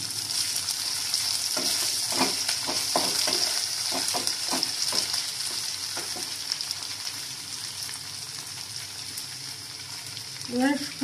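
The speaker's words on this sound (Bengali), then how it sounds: "এবার ফুলকপিটা একটু ভাজা হোক" Cauliflower frying in a pan over lowered gas heat with other vegetables, a soft steady sizzle with intermittent stirring clatter and scraping throughout, close and moderately loud.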